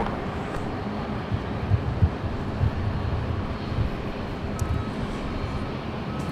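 Aircraft engine roar at LAX as Air France 021 comes in to land, a steady broad rumble with wind buffeting the microphone and no talking.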